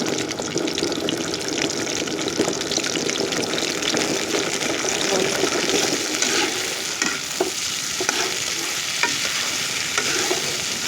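Chili is tossed into a hot pan and stirred, giving a steady, loud sizzle and frying hiss with scraping stir sounds and small clinks throughout, no voices.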